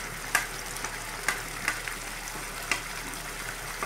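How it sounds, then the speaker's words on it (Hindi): Chili, turmeric and coriander powders frying with tomatoes for Amritsari chole, giving a steady close sizzle with occasional stirring scrapes and soft clicks, no voices. "इन तीनों को अच्छे से टमाटर के साथ सेक लीजिएगा जब तक कि ऑयल हमारा ऊपर ना आ जाए मसाले में"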